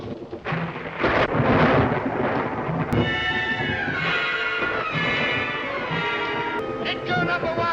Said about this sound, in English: Look, the storm is coming up over the mountains.